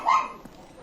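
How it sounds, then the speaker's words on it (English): A single short, sharp yip from a dog, heard briefly and a little distant behind gaming background noise. "god damn, that dog is barking."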